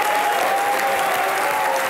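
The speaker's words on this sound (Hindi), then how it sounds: "दिलीप साहब के लिए एक बार जोरदार तालियां" A studio audience applauds Dilip Kumar on a comedy talk show, a dense, loud, unbroken roar of clapping with crowd noise mixed in, holding steady from start to finish.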